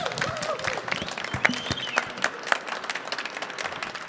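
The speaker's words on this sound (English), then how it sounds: "And a big round of applause." Audience applause fills a film festival Q&A hall after a screening of On Evil Grounds at BIFFF 2008, with dense steady clapping and a few cheers or whistles over four seconds.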